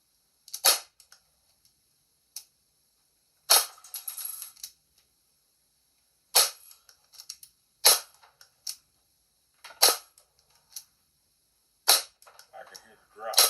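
Shots from a CO2 airgun fired at cans outdoors, a series of sharp, loud, isolated cracks spaced a second or more apart, some followed by faint metallic rattles, with brief talk in between.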